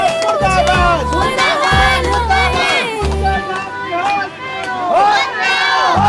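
A crowd gathered at a protest sit-in over a long-stalled bridge construction, with loud overlapping voices and shouting, rhythmic low thumping bursts, and a babble that rises and falls close by.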